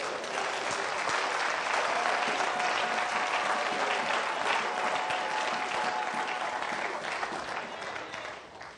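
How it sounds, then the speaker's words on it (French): A church congregation applauds loudly and steadily, a dense wash of clapping hands that holds for several seconds before starting to fade, with voices faintly mixed into the crowd. "Acclamons très fort le Seigneur"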